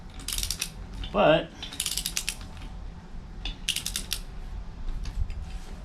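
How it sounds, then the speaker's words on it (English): A torque wrench is worked like a ratchet on bolts, giving bursts of rapid metallic clicking close by, with a brief clunk between sets of strokes. "I know you're not supposed to tighten them down with the torque wrench, use it as a ratchet"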